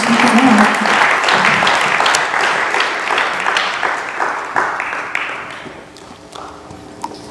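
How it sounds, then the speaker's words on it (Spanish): Strong applause from a church congregation, loud and continuous with a few voices mixed in, gradually thinning and fading over several seconds. "Fuerte el aplauso. Déselo fuerte a la gloria de Dios."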